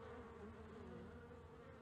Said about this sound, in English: Pace, Nancy, look what the bees did to you.